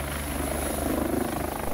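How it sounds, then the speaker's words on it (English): A helicopter in flight over New Zealand's wapiti country near Te Anau, its rotor and engine a steady, loud, close drone with a fast rhythmic beat and no break throughout. "we hitch a ride with New Zealand's most experienced helicopter pilot, Sir Richard Hannibal Hayes"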